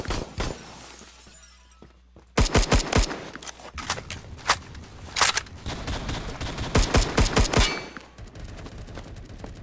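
M16A3 rifle fire in the video game Phantom Forces: loud, close bursts of rapid shots in several clusters after a quiet opening, with crackling impact and breaking noise between volleys, and no voices.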